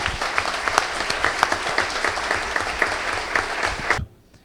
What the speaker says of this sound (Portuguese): Eu quero uma salva de palmas ao grande Modesto.